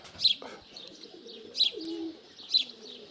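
Pigeons coo at a dovecote in Poteryaevka, Altai, three soft, evenly spaced coos close by with light chirps between them.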